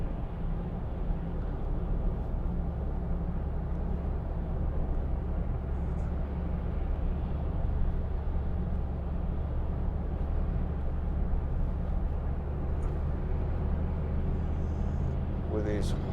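Hyundai i40 1.7 CRDi driving on a motorway at about 50 mph, a constant low road and engine rumble under a voice talking throughout.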